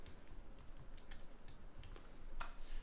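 Keys clatter on a computer keyboard in a quick, light burst of close, fairly quiet taps over a soft background hiss.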